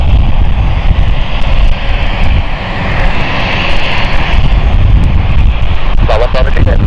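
ATR turboprop aircraft engines roar loud and close at London City Airport, a sustained droning whine with gusty wind buffeting across the microphone.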